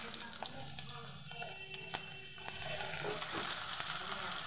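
Small eggplants frying in hot oil: a close, steady sizzle with light crackles and the occasional clink of a utensil against the pan, growing a little louder toward the end, with no talking.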